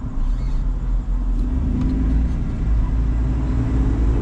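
A car driving at night, its engine and road noise forming a steady, loud low rumble that persists throughout with no talking.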